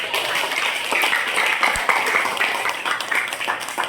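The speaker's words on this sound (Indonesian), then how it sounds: "Mari kita kasih aplaus dulu ke Fahri." A class audience claps for Fahri during a coding and artificial intelligence lesson, a dense, steady round of applause that carries on throughout.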